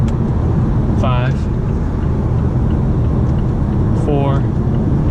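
Mazda 6 Grand Touring Reserve sedan engine on a test drive while dropping through the gears, a steady loud cabin drone of engine and road noise with someone speaking briefly over it.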